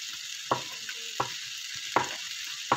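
Squid being stirred in a pan while cooking adobo, with a steady frying sizzle beneath four sharp spoon scrapes or clanks spaced at roughly even intervals.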